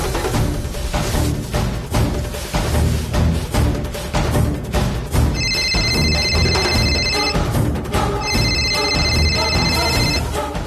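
A landline telephone rings in two clear bursts partway through, sounding over loud, dense background music in a Kannada TV serial scene.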